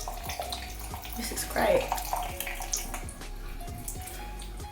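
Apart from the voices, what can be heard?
washing a face mask off with running water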